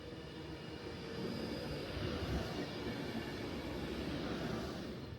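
Inside a nine-coach Avanti West Coast Pendolino train heading to Glasgow Central, a steady rumble of wheels and carriage noise fills the cabin, swelling slightly midway with a soft airy hiss on top.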